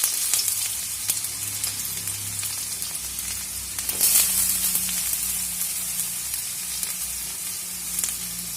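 Sliced onions frying steadily in hot oil in a pan while drumstick chops are cooked, a continuous close sizzle with a few sharp crackles and a brief louder burst partway through, no voices.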